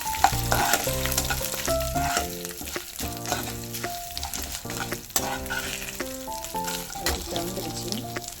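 Urad dal and chana dal fry in hot oil with curry leaves for a Tamil vegetable kara kulambu, a soft sizzle with light stirring, heard beneath prominent melodic background music.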